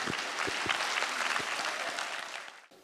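Audience applause after an outdoor Mulan show in Pniewy, Poland: dense, steady clapping from a large crowd, close and loud throughout, thinning out toward the end.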